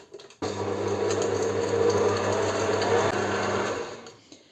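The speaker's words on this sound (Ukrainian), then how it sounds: "Збиваю це масло з цим цукром" An electric mixer beating butter and sugar whirs continuously at a steady pitch for several seconds, close and loud, then winds down at the end.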